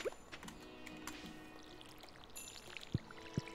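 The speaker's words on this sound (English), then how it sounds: "Oh, I need to water the dog and the crops!" A watering can in a farming video game pours water in short splashy bursts, faint and close, with a couple of sharp louder splashes near the end over a quiet musical background.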